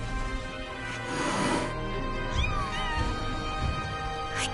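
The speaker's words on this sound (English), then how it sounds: "Kittens?" Kittens meowing in the Final Fantasy VII Rebirth video game, Nibelheim, with a few high, wavering mews over a steady background of game music and ambience.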